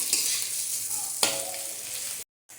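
Pre-fried fish heads go into a hot pan with sugar and are stirred, giving a steady bright sizzle with a scraping stir midway, loud and close, before cutting to brief silence.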